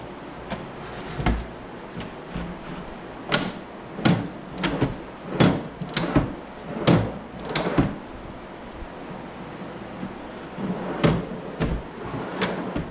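Wooden top drawer being knocked and worked into a tight opening on a table saw workstation: a string of sharp wooden knocks and bumps, irregular and fairly close, with quieter scraping between them and no speech.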